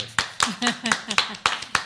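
A few people clap in uneven, scattered bursts at a literature festival debate while a voice keeps talking underneath.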